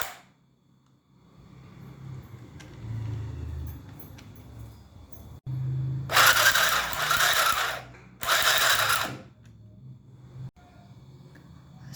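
A portable cordless sewing machine stitches in two short, close bursts of whirring, each about a second long. Quiet mechanical clicks and handling sounds come before and after them.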